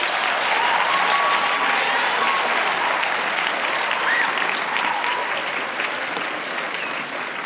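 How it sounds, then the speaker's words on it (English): An audience at a university welcoming event claps steadily after a spoken-word poetry performance, a dense, full round of applause that fades slightly toward the end, with no talking over it. "I think she deserves another round of applause."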